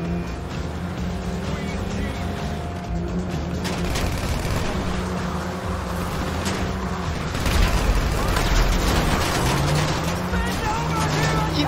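Gunfire and rocket explosions in GTA Online around an armored vehicle, a dense continuous rumble of engine noise and booming impacts with sharp bursts, heard under a player talking.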